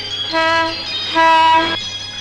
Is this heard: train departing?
yes